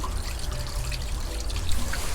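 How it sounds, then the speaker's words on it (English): Grey water drains from a campervan tank with a steady, dense hiss and splatter of running liquid, close and continuous with a low rumble beneath and no voices. "There's the grey water emptying."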